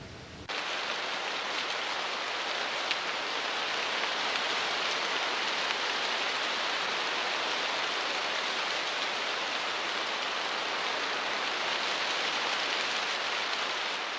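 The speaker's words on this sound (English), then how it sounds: "When the rains finally come, they pour through its leaky roof." Heavy rain pours steadily through the leaky roof of a limestone cave in Ankarana, Madagascar, a dense, continuous hiss of water that stays loud and even throughout, with no voices.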